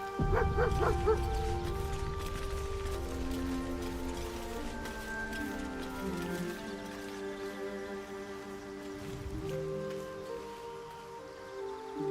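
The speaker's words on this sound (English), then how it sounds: "I think I've heard a wolf or a dog" In the video game Baldur's Gate III, a dog barks in a quick run of yips near the start, followed by quieter intermittent barks and tonal game music over the next several seconds.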